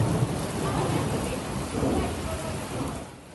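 Thunderstorm with heavy rain pouring down, a continuous loud wash of rainfall with deep rolling thunder rumbling through it, steady throughout with no voices.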